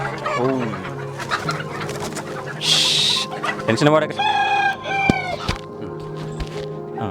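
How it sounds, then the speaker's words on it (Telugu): Native country chickens on a poultry farm kept with roosters for breeding chicks cluck busily at close range, and a rooster crows loudly partway through, while a person speaks briefly over the birds. "చూస్తున్నారు కదండి, ఇవన్నీ నాటుకోళ్ళు."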